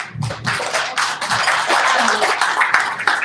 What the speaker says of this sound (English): I was clapping not for me